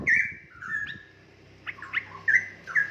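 Young straw-headed bulbuls (cucak rowo), about three months old, held at a bird seller's stock, giving several close, clear chirps and short whistled calls in scattered bursts over a faint low hum.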